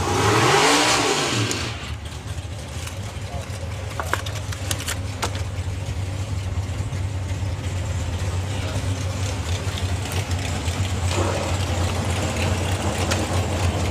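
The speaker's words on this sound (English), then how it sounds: "So it is Andy Harrison and Andy Dibley going to be reheating the tyres for this round 1 match." Drag racing cars at a summer nationals meet idle and rev steadily while reheating their tyres before a round one match, a loud continuous engine drone with a sharp burst at the start.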